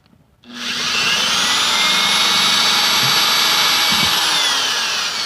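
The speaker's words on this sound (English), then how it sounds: "we're going to drill holes in each piece of this PVC" A power drill boring holes in PVC pipe whirs up abruptly and runs at a steady high pitch, loud and close, with faint knocks near the end.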